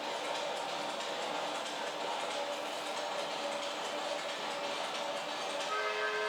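A steady, rattling rumble like a passing train continues without a break, mid-loud, with faint tonal whines rising toward the end.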